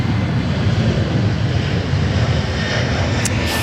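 A Boeing 747 airliner at Sydney Airport roars loud and close, a dense, steady engine rumble filling the whole stretch with no voices over it.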